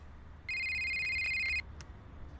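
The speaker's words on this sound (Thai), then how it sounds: "เสียงโทรศัพท์ครับผม" A telephone rings in the Missing Children video game, a single bright electronic trill lasting about a second, clear over a low background hiss.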